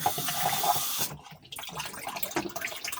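Water runs from a tap and splashes into a cup to thin a medicine slurry, a steady hiss and trickle that cuts off briefly, then resumes with faint clinks.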